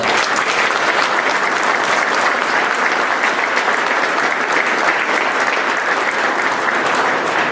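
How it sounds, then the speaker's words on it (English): An audience at a fibre centre press conference in Moncton, New Brunswick, applauds in a dense, sustained burst of clapping that stays steady and full for several seconds, with no talking over it. "please give them all a round of applause"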